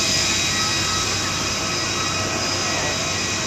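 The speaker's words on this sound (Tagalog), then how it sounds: "Bababa lang ng aeroplano" A passenger jet's engines run at Puerto Princesa airport in Palawan, a continuous loud whine and rumble held steady throughout, with no speech.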